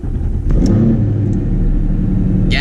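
A supercharged Paxton 5.0 engine in a 2014 Mustang with a TR6060 swap catches after a brief crank and settles into a loud, steady, deep idle rumble, with a sharp click near the end.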